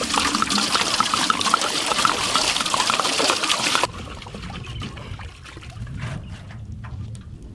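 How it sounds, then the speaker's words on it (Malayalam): Water pours in a steady, splashing stream into a cooking pot for a few seconds, then stops abruptly, leaving only quiet, faint background noise. "വെള്ളം ഒഴിച്ചു കൊടുക്കാം."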